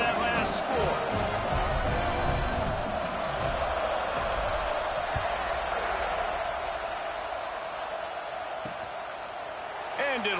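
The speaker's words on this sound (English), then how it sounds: "this crowd is buzzing after that last score" A dense crowd roars steadily throughout a college football video game match, a loud continuous stadium din with scattered sharp knocks and thumps.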